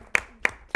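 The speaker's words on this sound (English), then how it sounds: "let's give them a round of applause as well" Brief bursts of audience clapping at a school competition, three short sharp claps spaced about a third of a second apart, fairly faint and thin rather than a full crowd roar.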